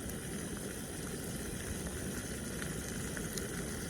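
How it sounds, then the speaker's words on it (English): Brazilian military combat ration food, mashed potato with shredded meat, heats with a soft, continuous hissing sizzle, steady and fairly quiet, up close with no voices over it. "Oh, you hear that sizzle?"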